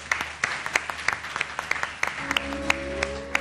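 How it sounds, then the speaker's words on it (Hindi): Studio audience applause welcoming a guest onto a Ramzan television talk show, a run of sharp claps that carries on steadily, with a low steady tone entering partway through. "मैं चाहूंगी कि हम अच्छी और जोरदार तालियों में वेलकम करें"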